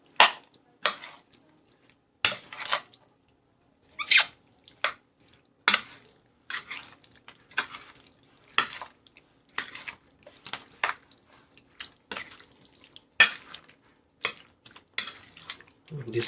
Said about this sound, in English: Just stir everything together.